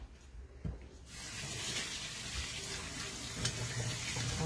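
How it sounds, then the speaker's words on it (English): Tap water runs steadily into a sink for hand washing before preparing kidney beans and puff puff, a continuous close splashing hiss that starts after a brief quiet moment and a light knock. "wash my hands to start it."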